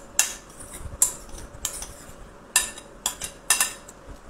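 Cutlery clinks against a bowl as Russian salad is tossed with mayonnaise dressing, salt and black pepper: several sharp, bright taps spaced irregularly, close and fairly quiet, with no talking.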